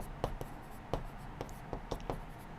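Writing on paper during a maths lesson, soft, close scratching strokes and taps at an uneven rhythm, with no clear talk.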